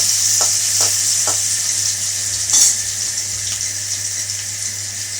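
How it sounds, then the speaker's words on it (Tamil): Onions sizzling in hot oil tempered with mustard seeds, urad dal and cumin: a steady, bright frying hiss throughout, with a few soft stirring knocks and one brief louder flare near the middle. "கடுகு பொரிஞ்சிச்சு வெங்காயம் போட்டுக்கலாம் வெங்காயம் நல்லா சிறந்து வதங்கி வரணும்"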